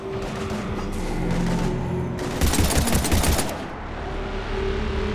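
Automatic gunfire in the video game Mass Effect 3, loud rapid bursts of shots rattling in the middle of the clip over a steady background hum.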